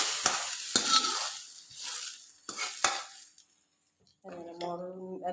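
Mustard seeds and fenugreek splutter and crackle in hot oil with browned onions for a Kerala moru curry, with close sharp pops and stirring scrapes, then a short harmonic stretch near the end.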